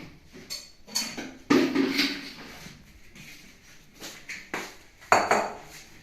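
Dry ingredients for mandazis being stirred together in a bowl, with scraping, clinking strokes that come in short bursts and pauses, close and fairly quiet.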